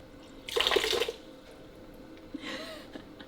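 Well water pours into drinking water jugs in an off-grid yurt, a loud splashing burst of filling followed by a quieter, softer stretch of running water.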